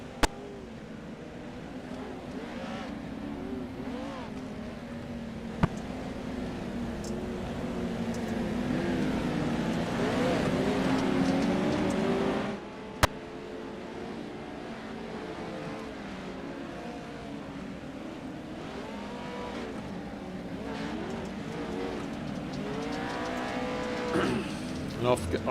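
Race cars from a sim racing game idle and cruise in a pack behind the safety car on the short track at Wild Horse Pass Motorsport Park before a rolling start, a steady droning engine hum with a brief louder surge midway, under talk.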